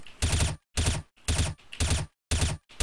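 Five quick bursts of rifle fire in CS:GO aim practice, each sharp spray lasting about a third of a second, separated by brief silent pauses.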